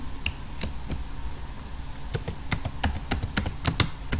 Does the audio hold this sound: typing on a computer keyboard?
yes